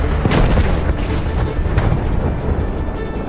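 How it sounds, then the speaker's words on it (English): Heavy explosion in the Battlefield video game, a loud, sustained booming roar that rumbles dense and unbroken across the whole stretch, with no voices. "Dikkat! Bomba atıyorum!"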